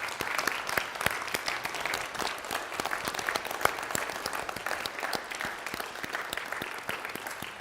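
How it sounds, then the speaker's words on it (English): Audience at a Wolfhound veterans reunion applauding, steady dense clapping from a room full of people sustained for several seconds at moderate volume. "give them a big round of applause this morning"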